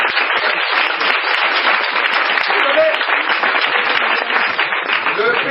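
A church congregation applauds and cheers in acclaim, a dense, loud, sustained wash of clapping and voices that holds steady throughout.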